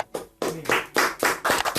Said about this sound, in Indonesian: Tepuk tangannya dong teman-teman